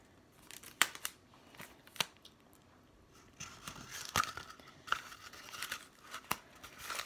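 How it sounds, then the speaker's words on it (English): Tape is torn off and wrapped around paper towel rolls to make toy binoculars: sharp close tearing rips at irregular intervals among crinkling and rustling handling noises, with no talk. "And tape them together like so."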